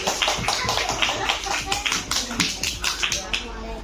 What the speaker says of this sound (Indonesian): Tepuk tangan dulu dong buat Sauki.